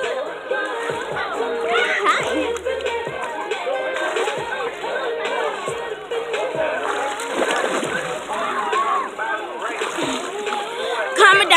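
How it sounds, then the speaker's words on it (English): Water splashes and sloshes steadily as a person goes underwater, with lively voices and crowd chatter throughout. "I'm about to go underwater"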